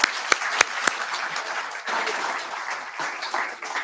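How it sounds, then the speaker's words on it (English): An audience at an annual reorganizational meeting applauds for property management, a steady wash of many hands clapping with a few sharp close claps near the start, fairly loud and continuous with no voice over it. "So big round of applause for KW Property Management."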